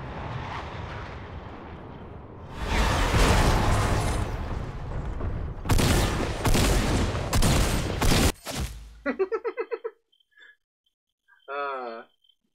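Gunfire erupts in Fortnite as dense, loud bursts of rapid shots and blasts, with brief pauses between volleys. A few short, chirpy game sound effects follow near the end.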